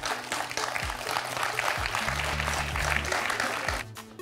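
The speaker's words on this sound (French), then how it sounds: "On peut applaudir Caroline." Studio audience on a French quiz show applauds steadily and fairly loud for about four seconds, dense clapping filling the room before tapering off at the end, with background music tones underneath.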